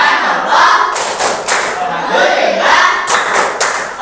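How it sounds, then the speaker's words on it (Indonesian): A class in an Islamic religious education lesson stands and does a rhythmic spirit clap: sharp, patterned bursts of group clapping break through loud chanted voices, close and lively. "Kita tepuk semangat terlebih dahulu."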